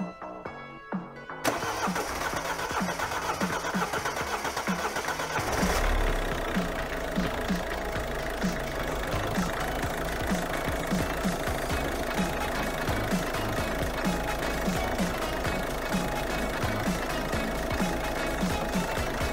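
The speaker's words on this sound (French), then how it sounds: "je vais maintenant amorcer le véhicule avec la poire de réamorçage et je vais pouvoir démarrer le véhicule" A 1.6 HDI PSA diesel engine in a Mini Cooper cranks briefly after its fuel line is primed with a hand bulb, catches, and settles into a steady, rattling idle that carries on loud and alone.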